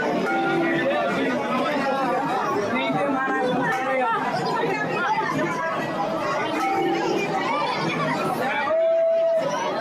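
Crowd of devotees gathered for aarti at the Radha Vallabh temple in Vrindavan, a steady close murmur of many overlapping voices chattering at once, with a brief bell-like tone near the end.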